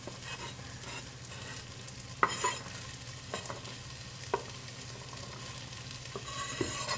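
Jalapenos, bell peppers and onions sweating down in a chili pot give a soft, steady sizzle under a low hum, with a few sharp scrapes and clinks of a spoon against the pot.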